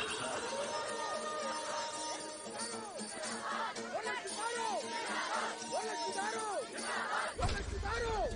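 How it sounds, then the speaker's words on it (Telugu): Commotion of a crowd packed into a courtroom in a Telugu film comedy scene, a loud, continuous babble of many overlapping voices and shouts with occasional clinks, ending in a sudden low thump. "మన కోర్టు మొత్తం గోలగోలుగా ఉంది"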